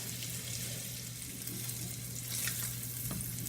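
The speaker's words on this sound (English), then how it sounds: "You're going to fry the kielbasa on both sides." Kielbasa sausages fry in a pan before being served with pierogies and sauerkraut, giving a continuous bright sizzle up close with a faint clink of tongs near the end.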